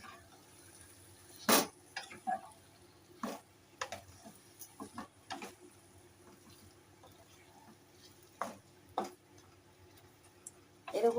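Taro stolon curry with green chillies stirred in a pan: sparse clinks and scrapes of a utensil against the pan, several sharp knocks spread over a quiet, low background, with no speech.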